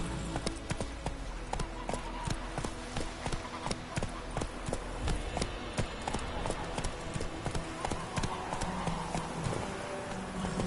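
Roach, Geralt's horse in The Witcher game, gallops with rapid, continuous hoof clip-clops, close and steady, with faint background sound.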